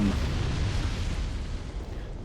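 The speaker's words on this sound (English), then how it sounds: "both of them explode in like a giant flame explosion" A giant flame explosion bursts from dual smelter swords in Dark Souls 2, a deep rumbling boom that rolls on loudly and steadily before slowly fading.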